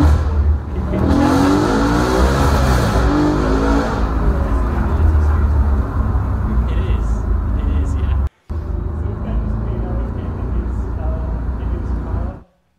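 A car engine revs and roars steadily while driving, loud and close, with a brief cut near the end and people talking over it.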